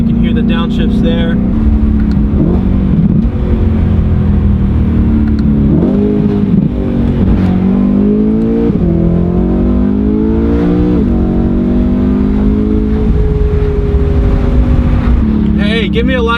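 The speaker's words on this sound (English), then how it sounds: "Windows a little bit down, you can hear the downshifts there." A BMW E9x M3 with a muffler-deleted exhaust downshifts with rising and falling throttle blips and revs, loud and close with windows partly down, a voice briefly heard over the engine.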